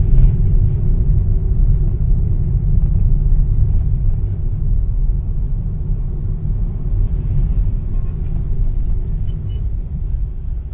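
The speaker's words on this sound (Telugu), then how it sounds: "బస్సు చూడండి ఎట్లొస్తా ఉన్నాడు. లారీలు కూడా ఎట్లొస్తున్నాయి చూడండి." Buses and lorries pass along the Tirupati–Naidupet highway, a loud, continuous low engine and tyre rumble from close by with no voices.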